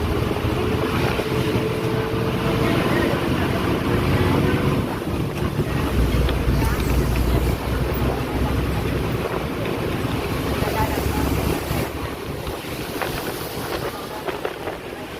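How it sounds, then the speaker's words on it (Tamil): Cool wind rushing in through the open windows of a moving bus on a winding hill route from Chinnamanur to Pathanamthitta, a steady loud roar and buffeting of air over the engine rumble throughout, with no talking. "நல்ல குளிர்ச்சியான காற்று அடிக்குது"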